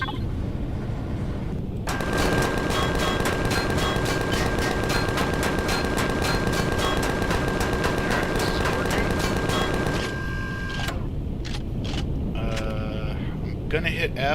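Rapid automatic gunfire in the Empyrion Galactic Survival video game rattles in a long, fast, even stream of shots over a loud rumbling background, then breaks into a few scattered bursts near the end, with someone speaking over it.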